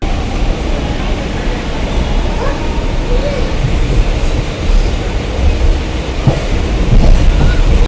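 A suburban passenger train on a Chennai line rumbles steadily throughout from close by, a dense continuous roar with faint rhythmic wheel clatter and occasional squeals, as if heard from aboard.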